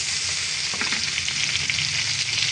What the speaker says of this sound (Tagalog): Yan, dito na po tayo magigisa.